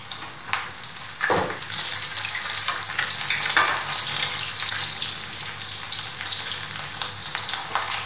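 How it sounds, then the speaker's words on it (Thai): Mackerel frying in oil over low heat in a home kitchen, a continuous close sizzle with soft crackles and a few brief clatters of utensils. "ทอดไฟอ่อนๆนะปลาทูจะได้สุกถึงข้างใน"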